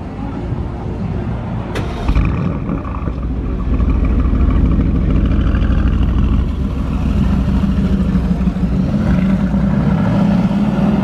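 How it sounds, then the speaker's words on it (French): An Aston Martin with an AMG engine, seen among hypercars in Monaco, drives past with a steady low engine rumble that swells and holds loud and close throughout. "Moteur AMG sur cette Aston Martin."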